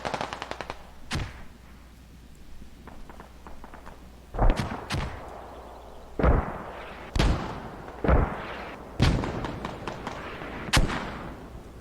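Enemy mortar fire in a military video game: a series of sharp booming impacts, roughly evenly spaced, some loud and some more distant, standing out alone against a quiet background.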